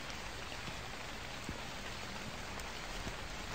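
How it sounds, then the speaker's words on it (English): Heavy rain pours down steadily in a Japanese horror video game set around a convenience store, a dense, loud, unbroken hiss with scattered sharper drops and no voices. "Oh, look at that rain effect."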